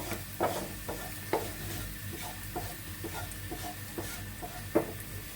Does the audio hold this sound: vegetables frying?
yes